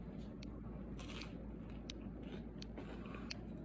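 Crunchy bites into avocado toast topped with lemon juice, chili pepper flakes, garlic, salt and pepper, heard as a few sharp, close crackling crunches over a quiet background.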